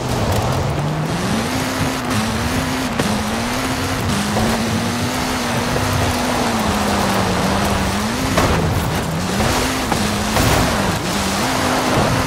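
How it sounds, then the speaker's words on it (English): Steady rain pours in a racing game set in Britain during spring, a constant wash of hiss under the droning hum of a car engine that rises and falls. "And it's raining."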